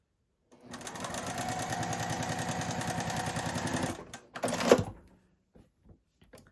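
Sewing machine chain piecing quilt patches, a close rapid mechanical stitching whir running steadily for about three seconds, then a brief clunk and a few faint handling taps.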